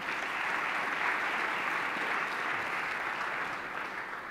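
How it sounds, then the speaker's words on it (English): A World Economic Forum audience gives a round of applause welcoming South Africa's Minister of Finance, a broad, even wash of clapping that holds steady and tapers slightly near the end. "Please give him a big round of applause"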